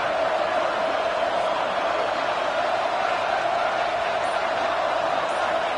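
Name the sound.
Boise State football crowd cheering loudly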